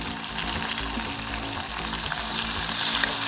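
Chopped onion sizzles steadily in a hot pan for village-style spicy noodles, a close, dense crackling hiss with no voices over it.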